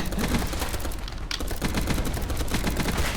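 Rapid bursts of automatic gunfire in the Roblox game Zombie Stories, dense and continuous volleys with brief gaps, loud and close throughout.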